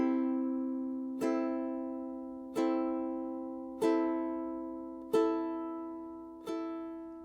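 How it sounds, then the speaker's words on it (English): A ukulele chord is strummed upward across the strings with the fleshy side of the index finger, five times at a slow, even pace. Each strum rings bright and sustained, decaying gently before the next one, with no voice over it. "strum up across the strings with the flesh side of the index finger"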